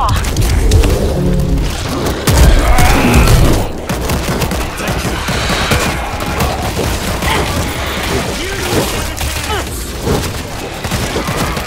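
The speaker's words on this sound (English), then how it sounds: "Those shots came from the highway!" Gunfire in World War Z: dense, loud bursts of shots and booms crackle throughout, heaviest in the opening seconds, over a constant rumble, with voices speaking beneath the battle.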